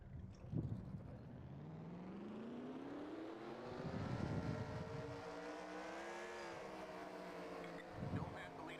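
Race car engines start in the NASCAR Racing 2003 video game, several rising, droning revs building and overlapping into a sustained engine chorus, with brief low bursts as more engines fire.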